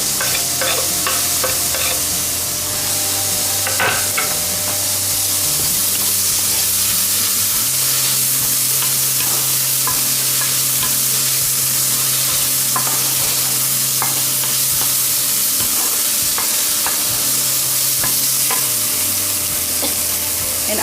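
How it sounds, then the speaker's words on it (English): Chopped tomatoes frying and being stirred in a pan for dal tadka, a steady loud sizzle with scraping stirring sounds throughout, no talking. "Now we will add chopped tomatoes."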